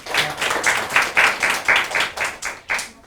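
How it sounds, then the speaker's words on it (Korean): A class claps for a student team in a design course, a small group's quick irregular hand claps rising and falling in a short burst, close and dry with no voices. "자연밥상 박수 한번 쳐주세요."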